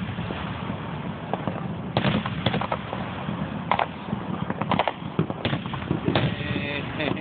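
Fireworks at an outdoor display on Long Island, New York, shooting out and bursting: scattered sharp pops and crackles at a distance, faint against a steady background hum, with occasional voices.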